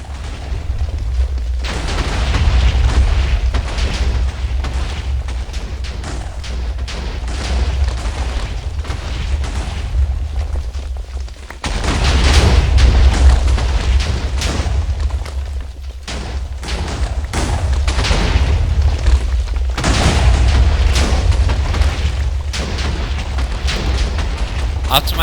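TNT blocks exploding in Minecraft, a continuous run of deep rumbling booms and blasts that swell and overlap with brief dips, loud and dense throughout, with a voice talking over parts of it.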